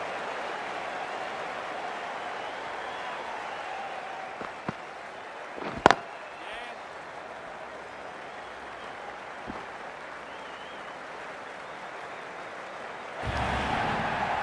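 A stadium crowd in the Cricket 24 video game applauds and cheers as a steady, wide wash of noise, with a few sharp clicks partway through and a louder swell at the end.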